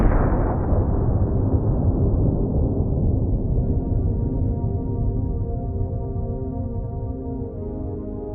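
A weather balloon filled with oxygen and acetylene explodes. The blast is loud and sudden, and its broad roar decays slowly over several seconds into a lingering low rumble and echo.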